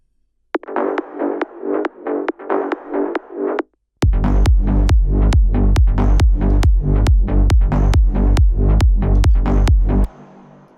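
Layered sliding bassline from a track in progress, heard first filtered as a thin series of evenly spaced notes, then unfiltered with full, heavy low end and sharp repeated attacks, loud and alone.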